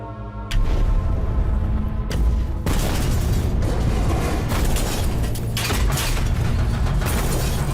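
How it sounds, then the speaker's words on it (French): Depth-charge explosions rock a submarine in a WWII undersea battle, a loud booming and rattling that crashes in suddenly and keeps the hull shuddering with heavy low rumbles and metallic clatter throughout. "Les explosions secouent le sous-marin."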